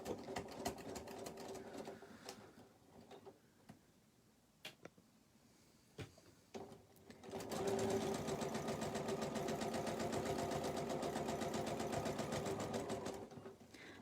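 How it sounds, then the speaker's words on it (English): A sewing machine stitches a zipper onto a pencil pouch, starting with a brief backstitch and a few short taps, then running steadily in a fast, continuous whir for several seconds at close range. "I'm going to backstitch just a little there at the beginning."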